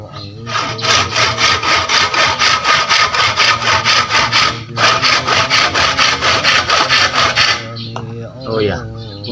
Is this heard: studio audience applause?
no